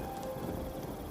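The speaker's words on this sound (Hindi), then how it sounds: "बारिश लगातार तेज होती जा रही थी।" A brief stretch of heavy rain gives a dense, even hiss with a low underlying rumble, quiet and unbroken throughout.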